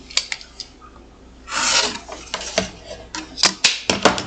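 Scissors trim gray fabric for a sewing project, with a few sharp close snips, a longer rasping cut through the cloth, then a run of quick crisp snips, no talk.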